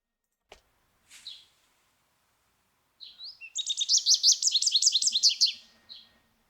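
A goldfinch recorded as a sound effect, starting with a few scattered chirps and then breaking into a rapid, bright twittering trill that runs for a couple of seconds before a final note, close and clear over silence.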